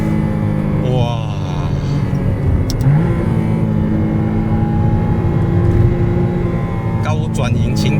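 A McLaren Artura's V6 engine drones loudly and steadily, with a brief rise in revs near the start and another near the end, beneath someone talking.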